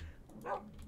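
A single brief dog bark from a Minecraft wolf in a modded FTB Infinity game, short and fairly faint over a low background hum.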